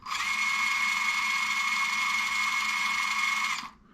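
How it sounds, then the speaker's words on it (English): A brushless motor in an MN82S RC car runs at max throttle in low gear, giving a steady, close, high-pitched mechanical whine and gear buzz for several seconds before cutting off. "this is like the low gear at max throttle"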